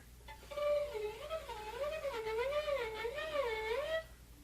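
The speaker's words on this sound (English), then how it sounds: "That's the sound of the slide." Quiet violin tone from Kreisler's Liebesleid with a finger gliding frictionlessly along the string, pitch gliding up and down in smooth wavy swoops for several seconds.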